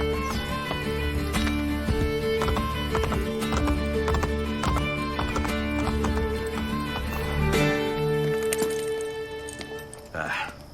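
Horses gallop in Assassin's Creed Brotherhood, a dense rapid clatter of hooves that runs steadily close up, with a game score and voices underneath before it fades near the end.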